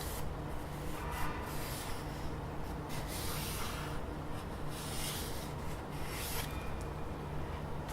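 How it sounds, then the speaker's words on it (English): A pencil sketches a wobbly outline on paper, giving soft continuous scratchy strokes with faint rhythmic swishes over a low background hum. "I'm just going to draw a wobbly shape of the GPD pocket"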